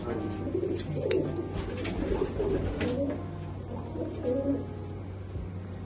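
Pigeons kept in a loft coo in a low, overlapping murmur over a constant hum of background noise, several birds calling intermittently at moderate distance, with no speech.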